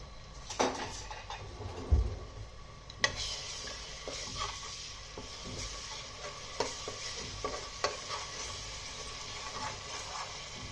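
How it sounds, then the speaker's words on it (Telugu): Ginger garlic paste frying in a pan while being stirred for a country chicken dish, a soft continuous sizzle broken by repeated scrapes and knocks of a spoon against the pan, close and fairly quiet, without speech. "అల్లం వెల్లుల్లి పేస్ట్ని వేస్తానండి. ఇది పచ్చివాసన పోయేదాకా వేపుకుందాం."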